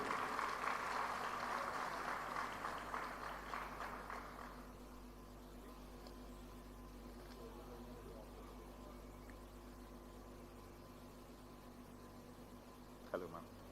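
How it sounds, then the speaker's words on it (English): Audience applause greets the German ambassador as she comes onto the stage at a Punjab Group of Colleges event, with a steady, fairly loud wash of clapping fading after about four seconds into a quiet room with faint speech. "round of applause for you"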